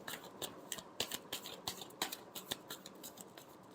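Tarot cards being shuffled by hand during a reading, a quick series of soft, crisp riffling flicks and slaps repeating close by, fairly faint, with no talk.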